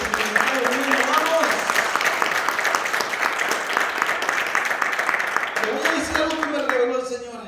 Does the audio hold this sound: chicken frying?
no